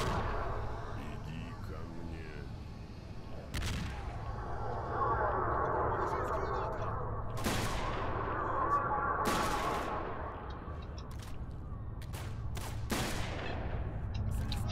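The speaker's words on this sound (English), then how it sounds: "I'm gonna throw some grenades." Grenades exploding amid gunfire during a wave defense battle in the video game Call of Chernobyl, with a few sharp, loud blasts spread over steady background rumble and scattered shots.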